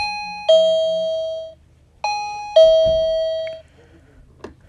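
An old burglar alarm and doorbell system chimes twice, each a bright two-tone ding-dong with ringing harmonics that sustains about a second before decaying, clear and close, followed by a faint click and brief quiet room noise.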